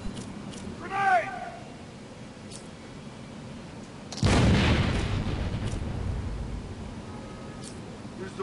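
A grenade detonates in Batman: Arkham City as a single heavy boom with a long, rumbling decay, preceded by a brief shouted voice over faint background ambience.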